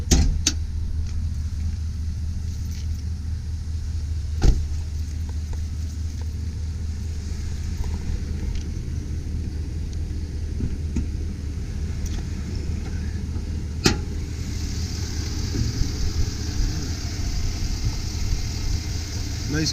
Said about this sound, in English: As you can see, motor's running nice and smooth. There's no roughness.